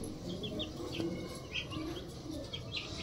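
A pair of Maxi racer pigeons cooing while sitting on their eggs, heard as soft, scattered coos and chirps close by over a faint background.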